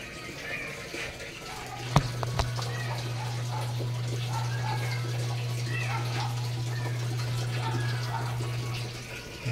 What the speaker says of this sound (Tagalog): hihinto yung pasok ng tubig, tapos mag-wash na siya